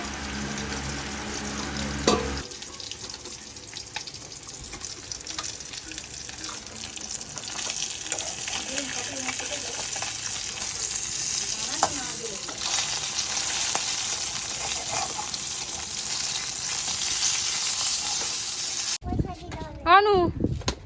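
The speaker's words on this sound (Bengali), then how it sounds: "ওইদিকে ততক্ষণ মাছের ঝালটা বসানোর জন্য দেখি মাছটা কতদূর ভাজা হলো।" Fish fries in a pan in a home kitchen, a steady loud sizzle and crackle running throughout, with brief stirring clatter and a splash of water near the end.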